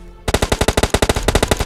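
Rapid automatic gunfire in the mobile shooter game BGMI Lite fires as a loud, close burst of evenly spaced shots that starts abruptly and runs unbroken to the end.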